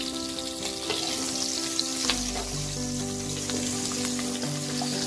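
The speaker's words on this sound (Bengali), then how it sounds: "এবার এই তেলে আমি দুটো কাঁচা লঙ্কা আমি মাঝখান থেকে ফালা করে দিয়ে দিয়েছি আর একটু কালো জিরে" Slit green chillies and nigella seeds frying in hot oil for Bengali mustard hilsa, a steady close sizzle with light crackling and a stir, no talking.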